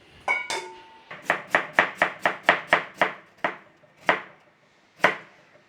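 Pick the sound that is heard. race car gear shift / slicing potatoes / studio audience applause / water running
slicing potatoes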